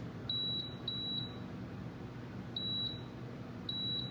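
A Power XL cooker's control panel gives four short, high electronic beeps in an irregular pattern while being set to bake, heard over a steady low hum of the appliance.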